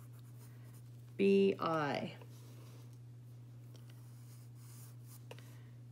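Soft, continuous scratching of a pencil sketching a bee on paper, faint and close, running under a brief spoken moment.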